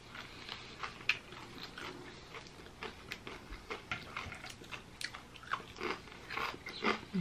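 Crisp, close crunching bites into Popeyes fried chicken thighs and legs, a steady series of sharp chewing crackles at a quiet level with no talk over them.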